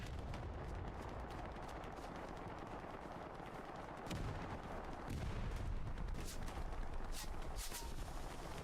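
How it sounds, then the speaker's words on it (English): Dense shotgun blasts and gunfire crackle in a trench warfare video game match set in a wheat field, with rapid overlapping shots and distant booms that grow louder toward the end. "Ah, I gotta love the shotgun."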